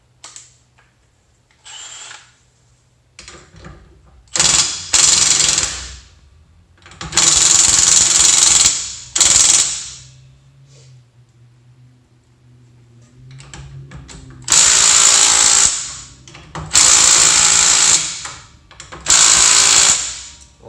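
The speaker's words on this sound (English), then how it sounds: "we're just gonna remove the lugs and get the wheel off here" Impact driver loosening the lug nuts on a utility trailer wheel during a hub service, firing in several loud, separate bursts of one to two seconds with pauses of quiet in between.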